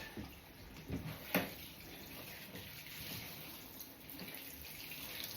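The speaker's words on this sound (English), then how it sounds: "Right, I'm going to wet his head now and do the head part." Faint running water from a tap splashes over a dog's head during a home bath, a soft steady gush with a few brief louder splashes, no voices.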